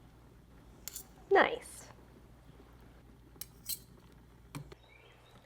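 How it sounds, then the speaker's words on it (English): A fork pricking cooked potato pieces in a pot, a few light metallic clinks and scrapes spaced apart, with a brief spoken word among them. "I like to prick a couple pieces with a fork to make sure that they're all done"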